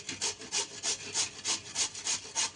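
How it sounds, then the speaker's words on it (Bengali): A raw potato is rubbed on the small side of a grater in quick, even rasping strokes, about three per second, close and fairly quiet with no talking. "এবার এই একটা গ্রেটারের সাহায্যে গ্রেটারের ছোট দিকটা দিয়ে আলুটাকে আমি একটু এইভাবে"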